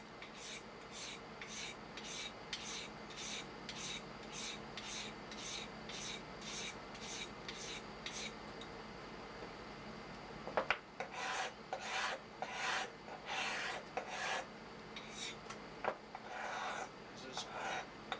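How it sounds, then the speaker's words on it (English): A heavy rasp scrapes across carving stone in quick, regular strokes, about a dozen even passes, then a short pause and a slower run of longer, uneven strokes, quiet and close. "pretty heavy rasp. It's not as smooth"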